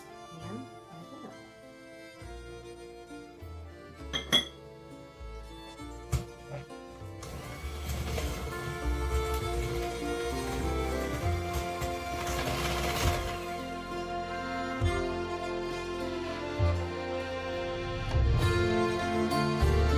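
An electric mixer creams butter and sugar together in a bowl for a cake, first with a few scattered clinks and knocks, then a steady motor whir with rattling that continues to the end, with no talk.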